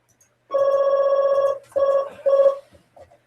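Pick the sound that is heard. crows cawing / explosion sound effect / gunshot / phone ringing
phone ringing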